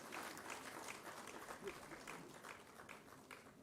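An audience claps at an agricultural research council's foundation-day ceremony in Uttar Pradesh as the chief guest releases a newsletter. The applause is faint and sustained with a brief swell partway through.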